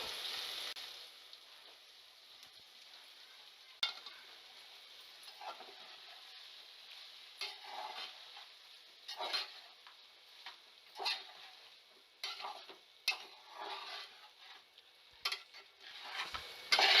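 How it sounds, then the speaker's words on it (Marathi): Soaked poha for kanda poha goes into a pan and is stirred, with soft scraping and scattered clinks of the spoon against the pan, plus faint sizzling, all quiet and intermittent. "आणि हे पोहे खालतून वरतीपर्यंत चांगले हलवून घ्यायचे आहेत."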